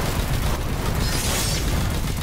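Explosion in Destiny 2, a loud, dense burst of noise with a heavy low rumble sustained for a couple of seconds, close and alone without speech.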